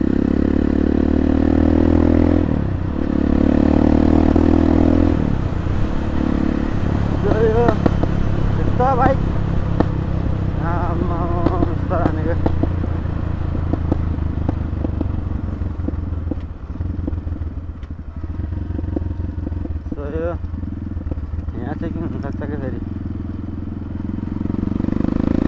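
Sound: Sports 250 dirt bike motorcycle engine

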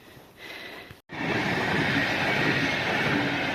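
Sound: VR long distance train passing

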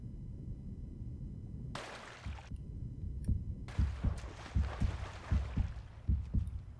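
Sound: heartbeat sound in video game Uncharted 3

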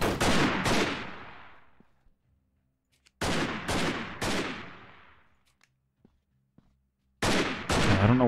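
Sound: gunfire in a video game firefight

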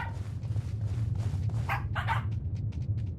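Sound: dog barking in video game

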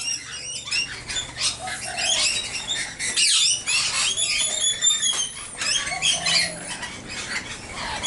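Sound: magpie visiting, calling

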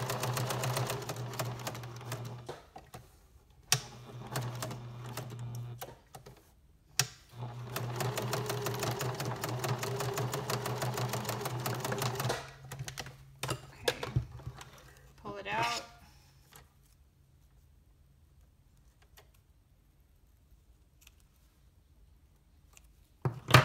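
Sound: sewing machine stitching around a fabric piece

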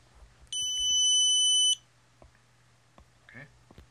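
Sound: OnStep telescope mount controller beep

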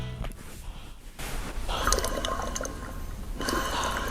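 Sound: fluid sloshing in Eyen Fluid Sport bike trainer resistance unit

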